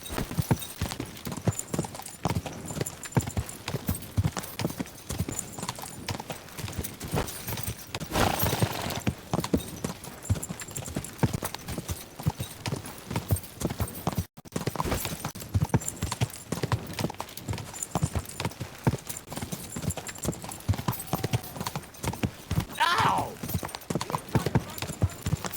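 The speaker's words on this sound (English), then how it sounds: "My God, that looks like a bloody expensive horse." Horse hooves clip-clop in a fast, steady rhythm throughout a ride in Kingdom Come: Deliverance II, close and loud, with voices talking over the hoofbeats and a brief break midway.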